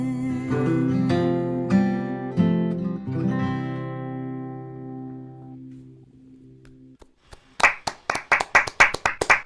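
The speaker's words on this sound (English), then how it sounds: "The live claps are so sweet" A live audience breaks into sharp, crisp hand claps at a small virtual music performance after a sustained chord from the song has faded out, the clapping close and rhythmic over the final two seconds.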